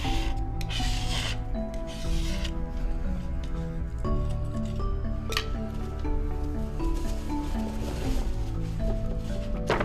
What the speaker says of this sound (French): Une fois séché, vous pouvez facilement le gratter avec un couteau propre